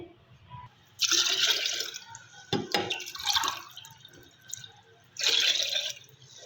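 Water pours into a cooking pot while a spiced chana chaat is prepared at home, coming in several close bursts of splashing and trickling with short quiet gaps between them, with no talk over it.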